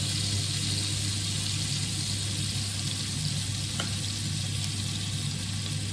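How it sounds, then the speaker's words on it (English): Steady, close sizzling of steak frying in a hot pan, a continuous crackling hiss with a low hum underneath. "Sizzling well."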